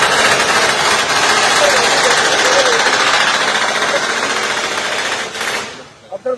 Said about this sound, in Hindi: ये पता चली नई टेक्नोलॉजी है रिवेटिंग